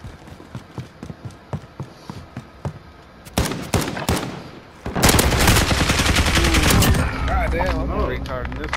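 Rapid gunfire in a shooter video game, first a string of evenly spaced single shots, then dense loud bursts of automatic fire, close and harsh, with voices talking over parts of it.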